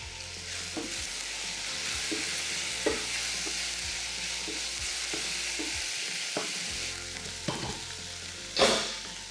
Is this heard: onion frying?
yes